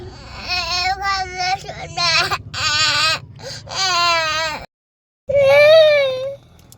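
A baby crying close by: wavering, sobbing wails in repeated bursts, with one short silent break before a final drawn-out cry.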